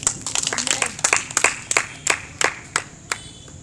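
A church congregation breaks into applause for the glory of Jesus during a sermon, a burst of clapping that thins into scattered, separate claps fading out.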